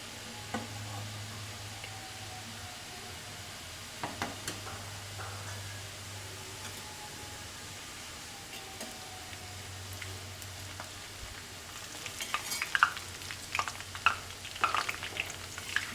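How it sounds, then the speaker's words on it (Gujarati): Chickpea flour sev frying in hot oil over a medium flame: a soft, steady sizzle with faint low hum and clicks, breaking into denser crackling and popping toward the end as fresh batter hits the oil. "તેલ થઈ જાય પછી આ રીતે આપણે સેવ પાડી લેવાની"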